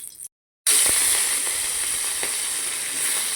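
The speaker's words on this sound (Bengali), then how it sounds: "এবার হালকা তেলে মাছগুলোকে ভেজে নেব।" Hilsa fish pieces, rubbed with salt and turmeric, fry in a little oil with a steady close sizzle and hiss, cut by a short silent gap near the start and a few faint stirring clicks.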